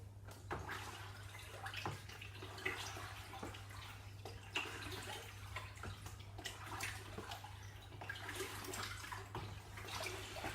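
Sloe wine is stirred in a bucket, a steady wet swishing and sloshing with occasional sharper splashes, faint and continuous under a low steady hum, with no talking.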